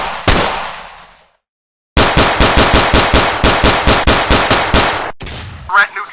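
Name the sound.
gunfire sound effects from the video game Counter-Strike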